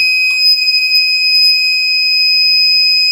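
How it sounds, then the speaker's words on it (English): A plug-in 120V electrical circuit tester sounds its piezo alarm, a loud, steady, piercing high-pitched tone held continuously and close by, with a few faint knocks underneath. "you're going to hear how loud the piezo alarm is"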